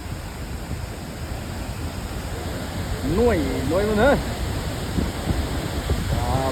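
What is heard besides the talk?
Khoupum waterfall, huge waterfall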